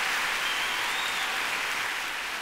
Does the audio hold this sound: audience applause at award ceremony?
yes